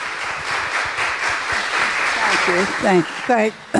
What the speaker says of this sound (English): let's give her a round of applause again, please